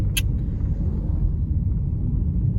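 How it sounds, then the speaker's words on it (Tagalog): Steady low road-traffic rumble from a congested street on an early Saturday, continuous and fairly loud throughout, with a brief high click near the start and no talking. "Wala nang katapusang traffic to."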